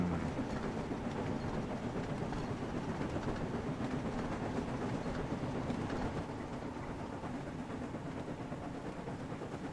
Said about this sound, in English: The train was soon running nicely, and James began to feel confident.